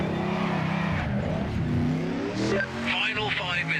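Racing car in a driving video game, engine droning with rising revs and a brief tyre skid on a slippery surface, heard under steady talk.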